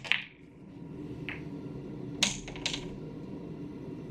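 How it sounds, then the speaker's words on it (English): A nine-ball cut break on a pool table: a sharp crack, then several crisp clicks of balls colliding, spaced over a few seconds against a low, steady room hum. "So we're just going to start here with a little cut break."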